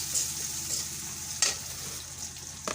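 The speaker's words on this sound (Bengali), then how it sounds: "কড়াইয়ে পেঁয়াজ দিয়ে নিয়েছি তেল দিয়ে পেঁয়াজ দিয়ে আমি দিয়ে দিলাম দুই তিনটে তেজপাতা ও দারচিনি এলাচ" Onions frying in oil in a wok with bay leaves, cinnamon and cardamom, a soft continuous sizzle broken by a couple of sharp spatula scrapes, close and without talk.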